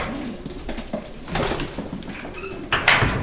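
Racing pigeons kept in single pens in a loft coo softly and shuffle about, with a few sharper knocks and clatters of wood or wire near the end, no talking.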